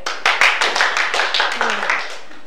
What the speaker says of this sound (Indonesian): Tepuk tangan untuk Mas Dea